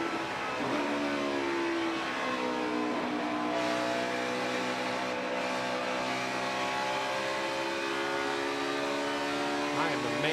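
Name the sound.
race car engine revving during Pocono 400 race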